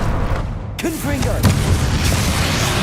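A Confringo fire-blast spell explodes in the Hogwarts Legacy video game, a loud booming blast with a rumbling tail, under a speaking voice and amid continuous game noise.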